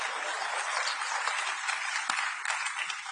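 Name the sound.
audience clapping on cue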